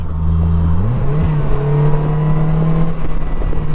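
The engine of a 2023 Polaris Slingshot S drones loudly and close, then its pitch rises sharply in a quick rev as a gear is downshifted and settles into a steady higher hum.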